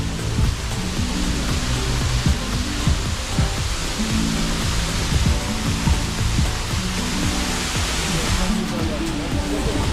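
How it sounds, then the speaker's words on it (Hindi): A waterfall in Kalpa, Kinnaur District, Himachal Pradesh, roars as a steady, loud broadband rush of falling water that stays constant throughout, with no break. "जैसे कि ये वाटरफॉल, जिसे देखना शुरू करो तो ज़ुबान अपने आप ही बंद हो जाती है।"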